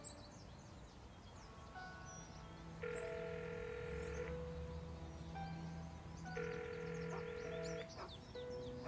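A telephone rings twice in the Broken Sword 5 video game, two electronic tones bursting out over a steady background ambience, with a gap between the rings and nobody speaking.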